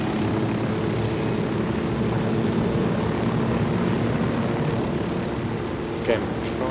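Helicopter in Ghost Recon Wildlands: a continuous, loud rotor and engine drone holding steady throughout, with a brief higher mechanical whine near the end.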